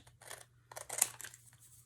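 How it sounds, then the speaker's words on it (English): Scissors snipping across the edge of a paper lunch bag, a few faint close cuts with light crinkling of paper between them, quiet and without talk. "I am really just taking some scissors and cutting right across that edge."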